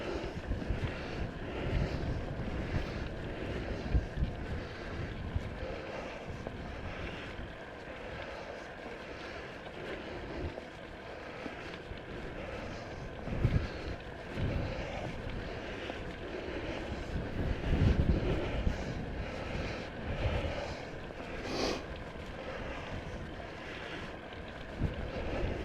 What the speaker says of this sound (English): the wind got me there.